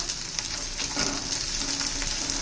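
Garlic and green chilies sauté in a hot pan with a dense, constant sizzle and crackle, close up and with no talking.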